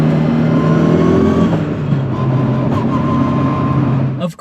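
A car with a dogbox gearbox revs its engine up toward 4,600 RPM for a downshift, a loud, steady, close engine drone that rises and holds before cutting off abruptly at the end.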